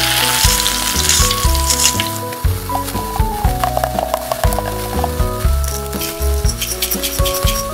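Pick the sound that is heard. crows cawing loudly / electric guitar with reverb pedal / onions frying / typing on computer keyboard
onions frying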